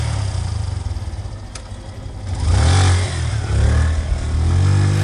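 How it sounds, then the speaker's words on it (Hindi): Motorcycle engine rumble in a horror story scene, a low hum that rises into a louder revving growl partway through, then holds as a steady throaty drone. "हेडलाइट की चमक और इंजन की गड़गड़ाहट ने माहौल बदल दिया।"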